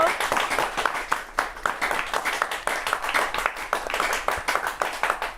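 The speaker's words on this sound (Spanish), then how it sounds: "¡Aplausos!" Studio audience applauds a guest being welcomed onto a Spanish-language talk show forum, a dense, steady burst of clapping from many hands filling the whole stretch at close range.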